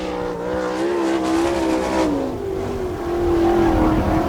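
A sprint car on a qualifying lap at Attica, Ohio roars loud and close, its engine rising and falling as it accelerates through the turns, with a brief tire squeal.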